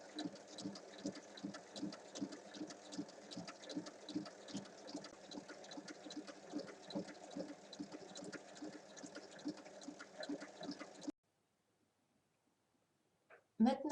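Domestic sewing machine topstitching strips of fabric, a steady fast rhythmic whirring hum with a regular needle throb lasting about eleven seconds, then it stops abruptly, leaving near silence before a brief rustle.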